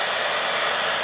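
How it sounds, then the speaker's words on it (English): A household hair dryer runs steadily at close range, a loud continuous broadband whoosh used to warm KTM motorcycle stickers in a cold garage, with no talk over it. "that's going to involve the use of Mrs. ManCam's trusty hairdryer, just so that I can warm these stickers up"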